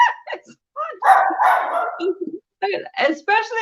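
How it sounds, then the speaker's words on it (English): A pet dog lets out a loud, drawn-out bark in the middle of a conversation, with people talking just before and right after it. "The dog want to get in on the conversation."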